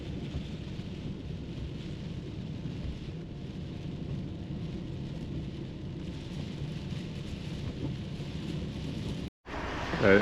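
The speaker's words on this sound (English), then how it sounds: "It's raining again" Steady rain rumbles on, with low wind buffeting the microphone. It cuts out briefly near the end.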